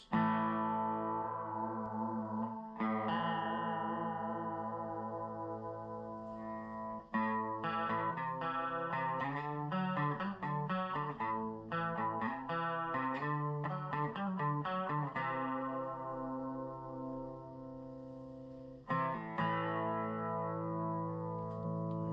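An electric guitar plays chords and picked notes through a Crate TD50-C tube amplifier's B channel with a shimmering chorus effect, ringing out sustained and warm with no talking.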